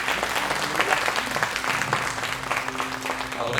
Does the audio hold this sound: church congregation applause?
yes